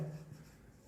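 Marker or chalk writing on a board during a maths lesson, a short soft scratchy stroke heard close and alone with no talk.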